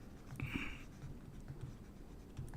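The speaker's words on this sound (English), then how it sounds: "let me write it down" Handwriting on a board or paper during a math lecture on matrices, faint scratchy strokes close by in a quiet room, with a brief longer scrape near the start and no voice heard.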